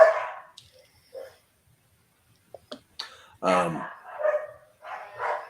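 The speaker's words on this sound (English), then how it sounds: "Damn fucking dogs." Dogs bark in a few sharp bursts, the loudest near the end, separated by quiet gaps and small clicks, with people talking nearby.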